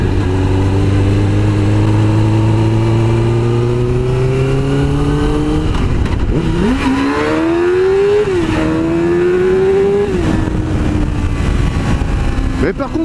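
A Suzuki GSX-R 600 sport motorcycle accelerates hard through the gears, its engine note climbing steadily then dropping at each shift, loud and close throughout with talk faintly mixed in.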